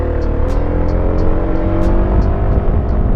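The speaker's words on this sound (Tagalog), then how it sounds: "Full throttle na yan guys" A QJ Motor Fortress 400 maxi scooter pulls hard at full throttle, its engine a loud, steady drone with a slowly rising pitch and constant road and wind rush throughout.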